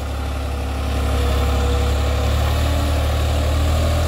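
A New Holland 5620 4x4 tractor of 70 hp runs steadily with a 11-tine tiller, its engine a loud, continuous low drone with a strong throb and no break in the sound.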